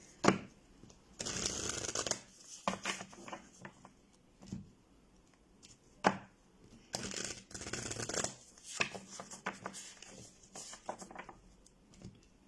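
Oracle cards of a love-language deck shuffled for a reading, with repeated papery riffling and patting bursts across the clip, close and fairly soft.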